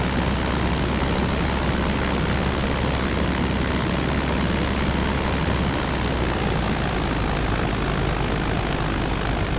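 Steady, loud airplane engine drone from a flight simulator (Aerofly FS2), a continuous broadband roar running unchanged throughout with no talking.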